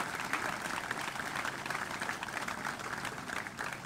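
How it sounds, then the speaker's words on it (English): An audience applauds steadily at an outdoor Marine Corps ceremony honoring a general, a dense wash of many hands clapping at moderate volume throughout. "How about a hand of applause for General Langley?"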